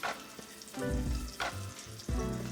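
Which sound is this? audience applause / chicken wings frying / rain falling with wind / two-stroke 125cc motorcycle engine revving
chicken wings frying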